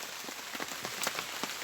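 Steady rain falling outdoors at a rural cooking spot, a continuous soft patter on surfaces with scattered louder drops, close and moderately quiet, no talking.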